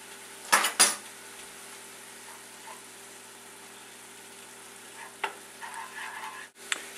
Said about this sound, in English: Now we need to stir in our 2 tablespoons of chopped parsley.